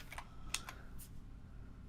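Quiet, close keyboard typing: a few scattered key clicks and taps with short pauses between them, no voices.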